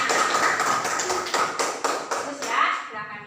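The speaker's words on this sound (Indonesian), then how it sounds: "Oke, beri tepuk tangan untuk temannya." Classroom applause from students, a steady stretch of brisk clapping that is fairly loud and close, with a teacher's voice speaking over it.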